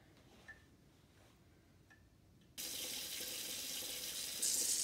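Hot water runs from a kitchen tap for rinsing, switching on abruptly partway through and then pouring as a loud, steady rush after a few seconds of quiet room noise with faint ticks.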